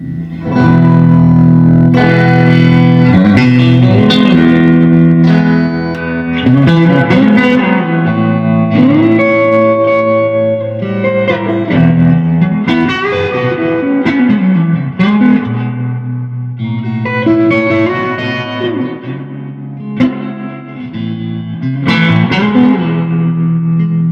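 Electric guitar through a Fender Deluxe Reverb amp in a home setting, crunchy and slightly driven, with strummed chords and single-note licks ringing out with reverb, loud and steady for the whole stretch with no voices.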